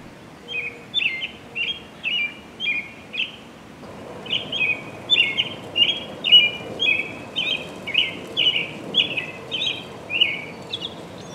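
American robin calls in a repeated series of clear chirping phrases, about two each second, fairly close and distinct over a faint background hiss.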